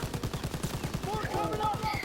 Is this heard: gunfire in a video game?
yes